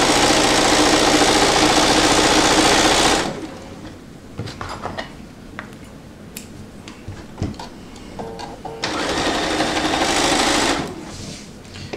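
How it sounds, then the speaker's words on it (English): Bernina sewing machine with a built-in walking foot stitching quilt pieces, a loud rapid mechanical whir in two runs with quieter handling of fabric between them. "This is my Bernina. It does have a built-in walking foot."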